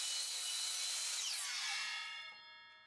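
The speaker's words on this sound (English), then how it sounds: "Then I headed over to my miter saw to cut the base of the address sign." A miter saw slices through a wooden board for an address sign base, a loud, bright whine of the spinning blade through the cut that then drops in pitch and fades as the saw spins down.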